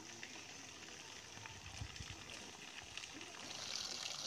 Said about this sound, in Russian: вот оно все стекает из трубы.